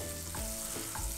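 Vegetables sauté in a pan for a chicken sauté, giving a steady close sizzle with a couple of brief stirring scrapes. No voices are heard.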